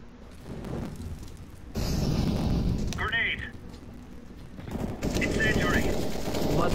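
Video game gunfire: loud bursts of shots and rumbling blasts crowd the soundscape, with someone talking over the action.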